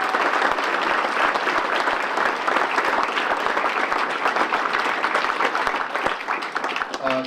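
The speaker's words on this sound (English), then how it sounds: "they should be given a round of applause." Sustained applause from a large gala crowd honoring policemen and firefighters at the Cottleville Green Tie Gala, dense steady clapping that fills the room for several seconds with faint voices mixed in.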